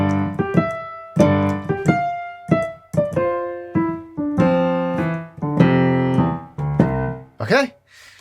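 Solo piano plays a film theme, a brisk run of separate sustained chords and melody notes with short gaps between phrases, close and clear with no talking.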